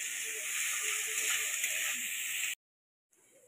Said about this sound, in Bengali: পেঁয়াজটা ভালো করে ভেজে নেব আগে।